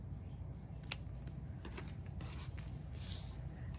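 Scissors snip through craft material while making Dollar Tree holiday candles, a few quiet, short cuts over a faint room background.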